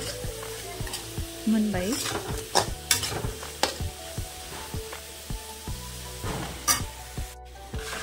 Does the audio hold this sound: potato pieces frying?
yes